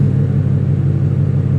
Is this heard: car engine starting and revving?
yes